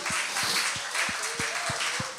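Applause from a church congregation for Jesus during a sermon, a steady wash of clapping with a regular low thumping pulse beneath it, sustained throughout.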